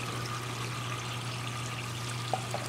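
Water pouring and gurgling out of an aquaponics grow bed filled with white river rock as its auto siphon drains into a sump tank, a steady close rushing trickle over a low pump hum.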